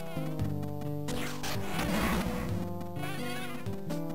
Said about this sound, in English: the bees are keep coming back, though